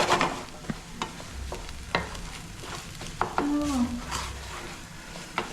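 Egg, chilli and onion sizzle in a pan while being stirred for Maggi noodles, with a continuous close crackle and intermittent scraping clinks from a utensil against the pan.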